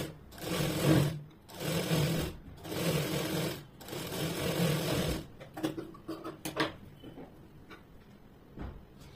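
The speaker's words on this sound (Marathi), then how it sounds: "ह्याप्रमाणे आपल्याला टीप मारून घ्यायची त्या पट्टीला." A sewing machine stitches a frill strip for a blouse back neck in three bursts of rapid mechanical whirring, each about a second long, followed by quieter clicks and fabric handling.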